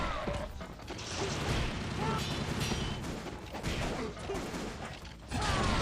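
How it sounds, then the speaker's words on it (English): Military enemies in Ninja Gaiden Sigma unleash dense gunfire and bazooka blasts, a chaotic barrage of rapid shots, crashes and explosions, loud and continuous with a voice talking over it. "The huge amount of gunshot and like bazooka fire."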